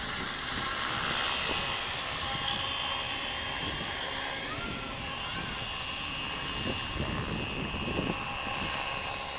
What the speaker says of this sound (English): Flying very nicely despite the wind.